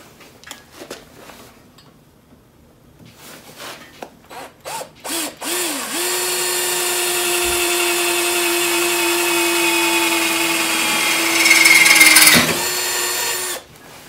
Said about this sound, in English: put it in like that and then drill your hole through here.